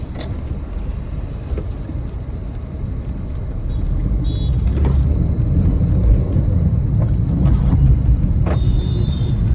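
A car drives along with a steady low road and engine rumble heard from inside, growing louder partway through, with a few faint clicks and rattles.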